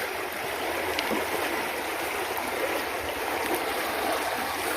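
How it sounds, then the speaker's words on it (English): The Rio Cobre river in the countryside flows with a steady, close rushing wash of water that stays even and unbroken throughout. "The river is flowing, flowing free, flowing with that beautiful energy."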